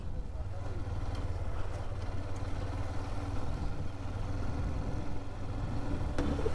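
A Hero Xtreme 125R motorcycle engine hums steadily at riding speed with rushing wind noise, continuous throughout.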